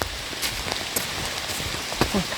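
Steady rain falls in a forest, a dense, even hiss of drops striking leaves and ground, with a few sharper close patters breaking through the continuous wash.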